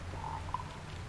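Frogs croaking in the video game Hogwarts Legacy, a couple of short faint croaks over a low ambient hum, with nobody speaking.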